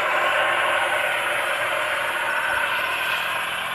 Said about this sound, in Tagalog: Tingnan na po kayo ang ingay ng motor pump namin.